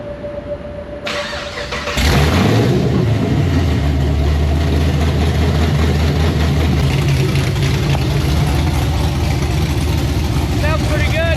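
A Chevy SS V8 with a cam fires up after a brief quiet stretch, then settles into a loud, deep, lumpy idle that rumbles steadily close by.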